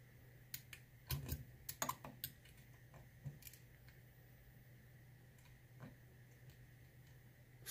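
Small metallic clicks from a lock pick working the pins of a Corbin Russwin lock, scattered faint ticks with a few sharper clicks near the start, quiet and close against a low steady hum.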